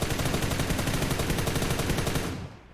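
Rapid automatic gunfire in PUBG New State, a dense, loud, evenly spaced burst of shots repeating fast for over two seconds before cutting off abruptly.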